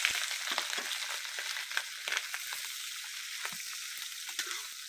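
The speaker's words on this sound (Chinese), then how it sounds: "把切好的腊肉放到锅里面去炒一下。" Cured pork belly stir-fries in a wok with a bright, crackling sizzle. Sharp spatters and stirring clatters break through the hiss, fairly close and moderately loud.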